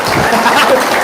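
A brief burst of loud applause from a crowd gathered at an Indonesian religious talk, honoring a respected guest. The clapping is dense and is heard with voices over it.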